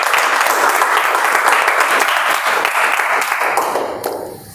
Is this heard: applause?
yes